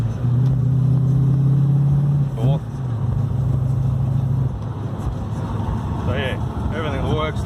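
A Holden VB Commodore engine pulls hard through the gears, a steady loud drone stepping up in pitch with brief dips at each shift into third and fourth, and someone talking over it.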